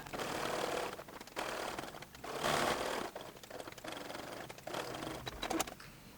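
A sewing machine top stitching at a long 4mm stitch, running in close bursts of rapid mechanical clatter separated by brief pauses.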